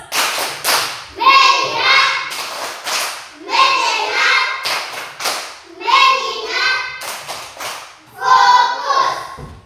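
Children in a classroom doing the rhythmic clapping game tepuk fokus, with four bursts of fast patterned hand claps, each led by chanting voices, repeated at a steady pace close by.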